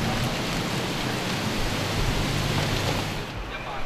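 Heavy rain pours steadily from tropical storm Higos along the Hong Kong waterfront at Tsim Sha Tsui, a dense, continuous hiss at constant loudness with no voices over it.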